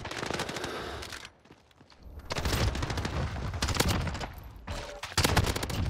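A P90 submachine gun in Modern Warfare firing in rapid, loud bursts, with a short pause before sustained fire resumes, then another brief gap and a final burst.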